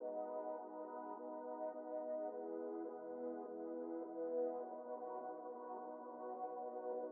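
Soft software-instrument pad loops from Logic Pro X's Apple Loops sustain in a 2000s R&B style beat, a mellow, steady chordal bed playing quietly and alone.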